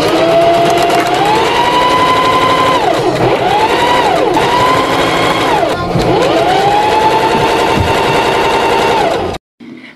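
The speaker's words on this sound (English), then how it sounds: "we're going to go to the sewing machine to get them sewn up" A sewing machine stitching a knit top runs loud and close in fast continuous bursts, its motor whine rising and falling as the speed changes, then cuts off abruptly near the end.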